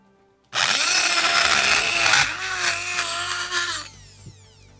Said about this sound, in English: Using the Dremel.